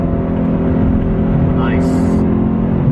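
A BMW E92 M3 with a six-speed manual pulls through a turn under light throttle, its engine a loud, steady interior drone with a brief rising whine partway through.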